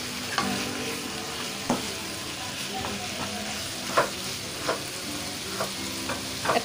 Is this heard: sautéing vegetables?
yes